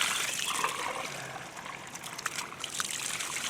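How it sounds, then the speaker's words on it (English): Water pours steadily into a DIY stock tank pool, a continuous close trickle and splash that holds an even level throughout, with no voices. "it's just water pouring in here now."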